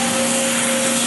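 A servo-driven automatic chamfering machine's cutter head, fitted with an 8-sided carbide insert, moves in a loud, steady mechanical whir with a constant tone throughout, close up.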